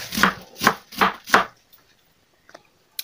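Four sharp knife chops on a board in a steady rhythm as napa cabbage is cut into strips, followed by quiet and a few faint taps; no talking.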